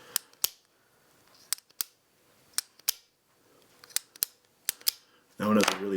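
A Zebra X701 metal pen's slide clicks in crisp, close, isolated snaps, about a dozen spaced irregularly over several seconds, before a voice starts talking at the end.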